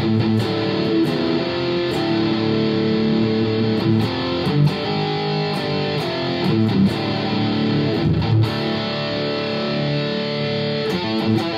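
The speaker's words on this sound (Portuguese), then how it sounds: "Charlie vem aqui para o True Light Zone da EFX, que já é um pedal mais pesadão, né" Electric guitar played through an EFX True Light Zone heavy distortion pedal with simulated reverb on a pedalboard, giving a sustained, thick distorted tone with steady picked chords and notes throughout.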